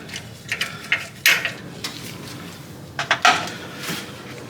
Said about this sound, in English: I'm pretty much threading my holes